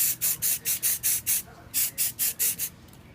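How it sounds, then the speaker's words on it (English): Short repeated hisses of an aerosol can spraying sand-coloured camouflage paint onto an AR-15 rifle, eleven bursts in a steady rhythm with a brief pause midway, close and fairly loud. "as you can see, it's pretty easy to spray it right on"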